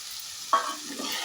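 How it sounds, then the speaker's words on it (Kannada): Chopped tomato and ginger garlic paste hitting a hot pan for masala pasta, a sudden close sizzle that rises sharply and then settles into a softer crackle over a low background hiss. "ಈಗ ಇದಕ್ಕೆ ಕಟ್ ಮಾಡಿರೋಂಥ ಟೊಮೆಟೊ ಹಾಗೆ ಶುಂಠಿ ಬೆಳ್ಳುಳ್ಳಿ ಪೇಸ್ಟ್ ಹಾಕ್ಕೋತಾ ಇದ್ದೀನಿ."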